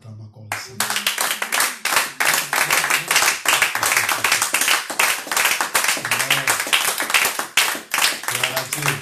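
A church congregation claps for the Lord during a worship service: brisk, steady rhythmic hand claps from many people, loud and continuous, with a little voice underneath.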